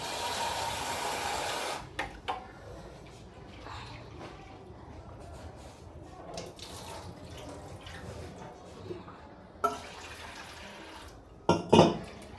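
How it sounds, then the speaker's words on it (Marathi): Water sloshes and drips as lentils are rinsed in a pot, with soft clinks and a few sharper splashes near the end. "वापरायच्या पाण्याने 2 वेळेस डाळ धुवून घेतली आणि आता चांगल्या पाण्याने 1 वेळेस धुवून घेते."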